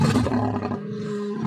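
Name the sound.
lion roaring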